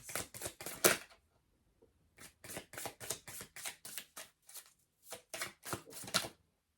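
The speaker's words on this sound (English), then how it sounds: "Don't know why I'm shuffling like this." Tarot cards are shuffled close up in quick rhythmic bursts of crisp riffling taps, with brief pauses between runs and no talking.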